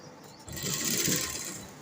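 Sewing machine stitching a piping strip onto a round V neckline, a steady close whirring run of about a second and a half with no talking.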